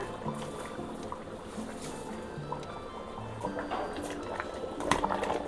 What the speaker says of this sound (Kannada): ಈಗ ತೊಳೆದು ನೆನೆಸಿರೋಂಥ ಅಕ್ಕಿ ಹಾಕ್ಕೊಳ್ಳೋಣ